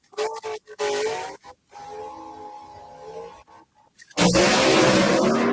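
A Chevy II drag race car at the start line, its engine rumbling at idle between short bursts, then revving hard and loud near the end with a sharp, close roar.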